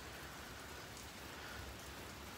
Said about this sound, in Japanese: ちょっと今日はあいにくの雨でございます。